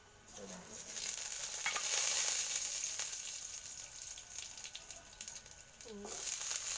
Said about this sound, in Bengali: আমি কালো জিরে আর কাঁচা লঙ্কা আর রসুনটা প্রথমে ভেজে শিলের ওপর তুলে রাখবো